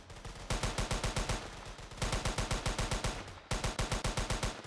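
Rapid automatic gunfire in the video game A Thug's Ascension, enemies shooting at a wall, loud sustained bursts of evenly spaced shots with brief breaks between volleys and no voices.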